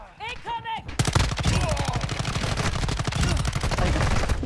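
Rapid automatic gunfire from the Call of Duty DMZ video game erupts after a brief voice, a dense loud volley of close shots rattling continuously to the end.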